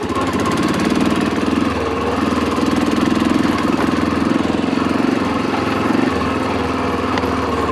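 An Army Harley motorcycle engine running steadily nearby, a loud, even mid-pitched drone with a throbbing beat that holds throughout, with no talking over it.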